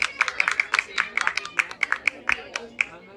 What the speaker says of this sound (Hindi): तो आपके लिए बहुत बहुत तालियां